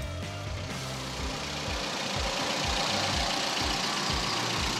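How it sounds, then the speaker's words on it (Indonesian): A Daihatsu GranMax engine idles steadily with a low, even rhythmic thrum, close by and alone, with no voices. "Suara mesin sangat-sangat menjanjikan. Semuanya terdengar sangat halus tanpa ada masalah."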